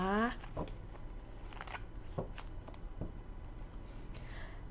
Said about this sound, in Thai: แม่มดจะขอเปิดไพ่เพิ่มเติมนะคะ